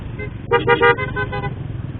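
Busy road traffic with many vehicles passes close by, a short car horn honk sounding over the steady engine rumble.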